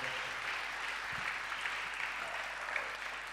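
A church congregation applauds together in a steady, even wash of clapping at moderate distance, sustained without pause and with no voices standing out.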